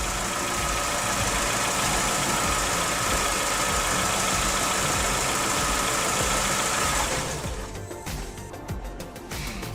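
A car engine idles steadily during a fuel pressure check, then is switched off near the end, leaving a quieter tail with faint ticking and clicks.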